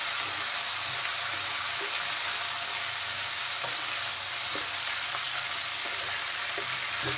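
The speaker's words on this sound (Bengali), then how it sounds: "এখন নেড়ে চেড়ে ভালো করে ভেজে নেব।" Drumstick pieces fry in oil with salt and turmeric, a continuous close sizzle broken by occasional soft scraping knocks as they are stirred.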